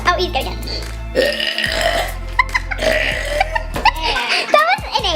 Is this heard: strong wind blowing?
no